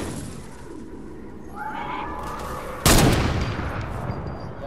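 Fortnite gunfire with a sudden loud shot blast partway through, followed by lingering rumble over steady game background noise.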